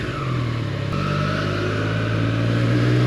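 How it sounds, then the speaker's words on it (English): Triumph Street Triple R motorcycle accelerating, a steady engine drone that steps up in pitch as it pulls away, with rushing wind noise throughout, continuous and close. "The throttle is so incredibly sensitive. You don't really need much to get going though."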